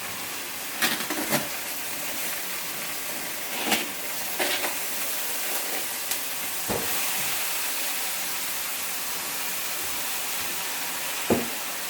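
Frozen homemade tomato sauce thawing in a hot pan gives a steady broadband sizzle and hiss, with a few sharper spits and crackles scattered through. The cooking is close by and moderately loud, and there is no talk.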